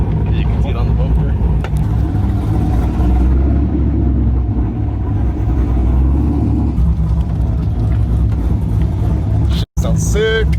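A C5 Corvette fitted with a Texas Speed cam kit idles with a loud, choppy, lumpy rumble that holds steady and close throughout, broken by a brief dropout near the end.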